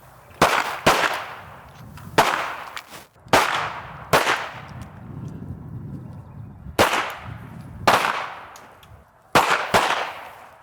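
Handgun shots fired one at a time on a shooting range during a ten-shot accuracy drill: about eight loud, sharp cracks, spaced roughly one to two seconds apart, each followed by a short decaying echo.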